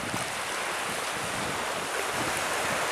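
Sea waves wash steadily onto Sai Kaew Beach, a military-run beach near Pattaya, Thailand, making a continuous broad surf hiss mixed with wind buffeting the microphone. No voices.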